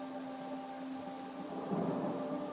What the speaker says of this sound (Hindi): आज भी रात को तेज बारिश हो रही थी।